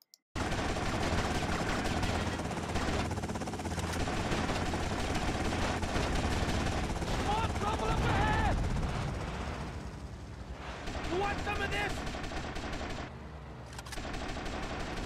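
Sustained gunfire rattles in GTA Vice City as a helicopter is shot down, dense bursts of shots running for about fifteen seconds alongside rotor and engine noise, with a voice speaking over parts of it.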